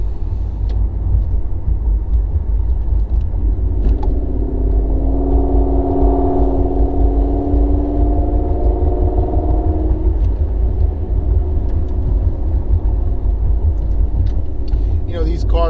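A 2017 Ford Mustang GT 5.0 automatic with headers, catted exhaust and an aftermarket intake runs on a dyno, giving a heavy, constant rumble. A rising engine tone swells midway and then fades back into the steady roar.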